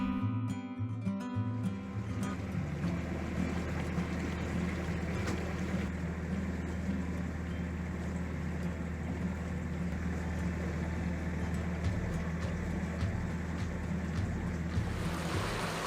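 A steady engine drone and low hum fill the air throughout, with rushing water and wind noise as a sailboat motors across the North Sea.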